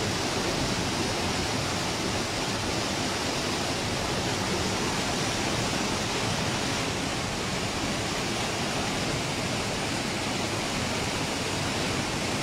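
Rushing water of the Nututún river near Palenque churns into a whirlpool, a steady, loud, broadband roar that continues unbroken and alone throughout.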